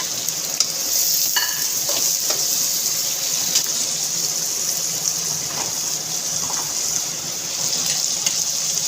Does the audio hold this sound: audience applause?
no